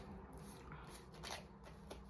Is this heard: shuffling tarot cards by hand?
yes